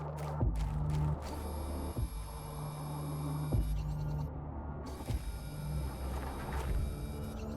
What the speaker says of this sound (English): This thing takes forever to vacuum.